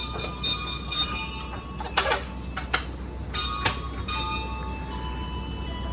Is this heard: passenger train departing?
yes